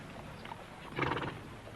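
A short horse whinny rises briefly midway through, moderately loud against a quiet outdoor background.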